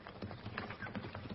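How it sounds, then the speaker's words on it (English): Rhythmic hoof clip-clops and rumbling from a horse-drawn wagon, dense and muffled, coming steadily closer. "Listen. That's a team and wagon."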